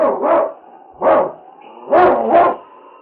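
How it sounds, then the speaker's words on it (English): Sled dog barking in a radio drama set in the Yukon, with four loud, close barks in uneven rhythm, two quick ones, a single, then another pair, standing out against a quiet background. "It's Yukon King, swiftest and strongest lead dog of the Northwest"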